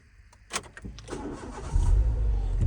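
A 2005 Renault Mégane with a 1.6 16v petrol engine is started. A few clicks and a short crank lead to the engine catching, then it settles into a loud, low, steady idle.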